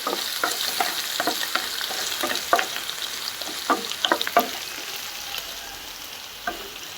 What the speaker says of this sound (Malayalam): നമുക്ക് നന്നായിട്ടൊന്ന് വഴറ്റി കൊടുക്കാം.